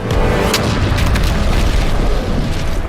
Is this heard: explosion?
yes